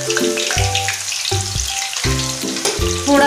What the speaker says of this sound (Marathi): डायरेक्ट तेलामध्ये आपण हे फ्राय करणार आहोत.